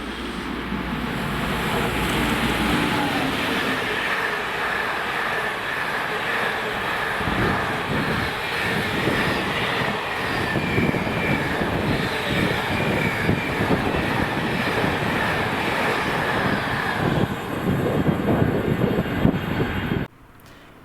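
Freight train 4S44, Daventry to Mossend, hauled by Class 88 electric locomotive 88003, rumbles past in Scotland with a steady loud roar and clattering wagons for about twenty seconds before cutting off abruptly.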